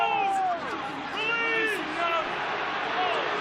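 A rugby league crowd bays and roars at the referees at a packed stadium, a loud continuous wash of massed voices with rising shouts and whistles, while a commentator talks over the top.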